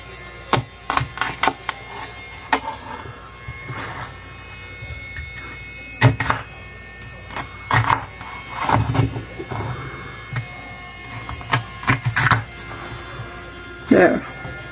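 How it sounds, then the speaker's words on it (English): A knife chopping an onion on a board in a home kitchen, sharp irregular cuts, some close and loud, spread across a stretch of quiet room noise. "I'm going to finish cutting this onion"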